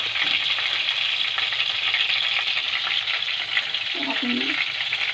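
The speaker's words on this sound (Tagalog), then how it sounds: "Ganyan po tayo magprito" Food sizzles steadily as it fries in hot oil, a continuous close crackle that keeps going the whole time, with a brief clink of a utensil near the end.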